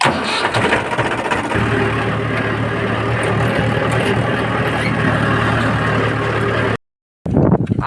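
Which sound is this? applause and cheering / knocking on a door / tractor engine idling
tractor engine idling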